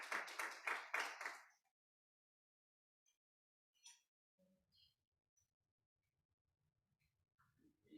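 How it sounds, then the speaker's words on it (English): An audience at a climate transition indaba gives a short burst of clapping lasting under two seconds, then the room falls nearly silent apart from faint scattered rustles and small noises. "Round of applause as she comes to the front."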